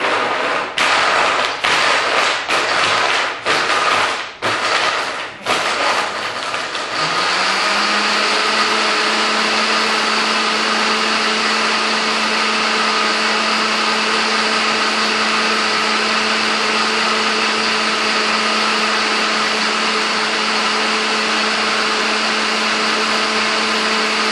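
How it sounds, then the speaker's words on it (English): Blender liquefying a green smoothie with spinach: a few taps and thumps first, then a loud, steady high-pitched motor whir that runs on unbroken, close and alone without any talk. "this one I'm going to have to mix just a little bit longer because you really want your greens to be basically liquefied"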